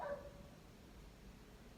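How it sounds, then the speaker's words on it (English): Dogs bark faintly in the distance, with a short burst of yips at the very start fading into a low, steady background murmur; no one speaks. "I'm like listening to these dogs"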